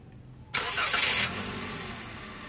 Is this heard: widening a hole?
no